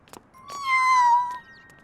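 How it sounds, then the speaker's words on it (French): A kitten in a Robocar POLI cartoon about road safety gives a single clear, drawn-out meow, close and fairly loud against a quiet background with a few faint taps around it. "Oh, un chaton. On t'a abandonné?"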